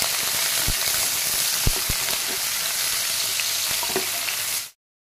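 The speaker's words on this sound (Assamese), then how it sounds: "মই কাটি থোৱা এটা পিঁয়াজ কাটি দিছোঁ, অকণ ভাজি লওঁ" A chopped onion sizzles loudly in hot oil for a chicken and dates dish, a steady crackling fry with a few sharp pops, then it cuts off abruptly.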